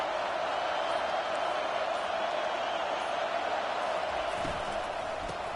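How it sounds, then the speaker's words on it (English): Loud, steady roar of a football stadium crowd at an NCAA college game, a dense unbroken wall of cheering that holds at full volume from start to finish with no voices standing out. "This crowd bringing an ear-splitting welcome to their visitors."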